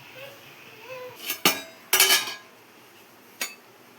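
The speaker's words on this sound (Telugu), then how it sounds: "నెక్స్ట్ మూత పెట్టేసి ఇలా దమ్ పోకుండా ఏదైనా బరువు పెట్టుకోవాలి." A metal lid set onto a cooking pot, then a weight placed on top for a sealed dum cook of bagara rice: a few close, sharp metallic clanks and clatters with quiet gaps between them.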